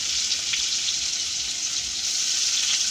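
Chopped onion hisses loudly in hot oil with cumin seeds and a dried chili, a dense, continuous sizzle heard up close and uninterrupted.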